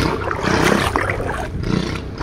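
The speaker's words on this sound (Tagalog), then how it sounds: "Ay, ang ingay ng ano, makina." Loud, rough engine roar, most likely a boat motor, running steadily and close by for the whole stretch with a rumbling, throaty texture and no talk over it.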